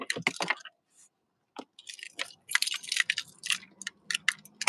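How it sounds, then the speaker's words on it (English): Loud, close chewing of salad, with crunchy squishy bites in quick bursts, a short quiet gap, then steady wet crunching. "I'm over here chewing all loud my freaking salad."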